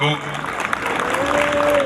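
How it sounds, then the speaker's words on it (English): Crowd clapping at an open-air campaign rally in Twic Mayardit, a continuous patter heard under a voice and tonal sounds. "Let us clap for our elder Abinago"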